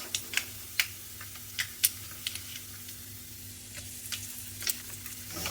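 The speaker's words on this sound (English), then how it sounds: "We'll just wait for the mustard to splutter first." Mustard seeds splutter in hot oil alongside urad dal, scattered sharp pops and ticks over a soft sizzle and low hum, no voices.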